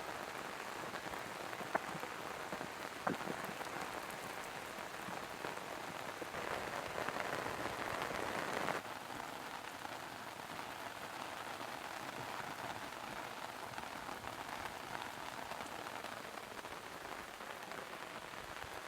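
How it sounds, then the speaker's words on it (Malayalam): Strong, steady rainfall pouring down, a thick unbroken wash of drops on surfaces that swells briefly midway before settling back to an even roar, with no talking. "അത്യാവശ്യം ശക്തിയായിട്ട് തന്നെയാണ് മഴ പെയ്തുകൊണ്ടിരിക്കുന്നത്."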